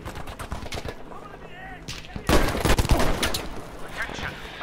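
Revolver and other gunfire in Battlefield 5, several sharp shots with a loud burst near the middle amid battle noise, with someone speaking at times.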